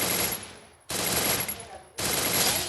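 Three loud bursts of close-range gunfire in a video game, each a dense rapid volley lasting about a second, the later ones starting abruptly after short quieter gaps.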